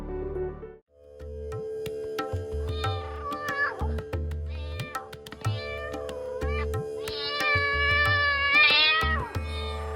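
A pet cat in a Tokyo apartment meows repeatedly, with a series of close, clear, pitch-sliding meows and a few drawn-out wails over a steady background hum.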